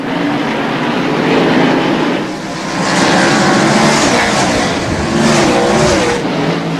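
1995 NASCAR SuperTruck racing trucks at North Wilkesboro roar around the track in a loud, continuous drone that swells and dips as the pack passes, with no talk over it.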